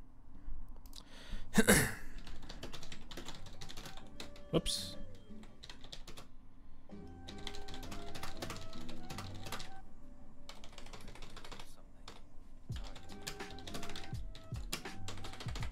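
Fingers typing on a computer keyboard in bursts of rapid clicky keystrokes with pauses between them, close and clear, with a brief spoken exclamation and some breathing mixed in.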